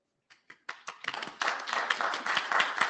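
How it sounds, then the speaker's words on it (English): A meeting room at an IETF working group session breaks into a round of applause: a few scattered claps first, quickly building into steady clapping from a modest audience. "Round of applause for working group progress."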